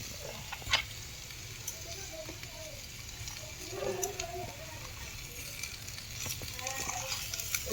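Boiled vegetables hit a hot pan and fry with a soft, continuous sizzle and a few light stirring knocks, fairly quiet, with faint voices in the background.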